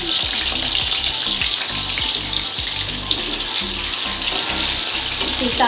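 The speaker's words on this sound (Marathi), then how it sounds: "टाकून आता मस्त बटाटा तळून घेऊ।" Potatoes fry in hot oil with a loud, steady sizzle and crackle, joined by occasional soft knocks, and no one speaks.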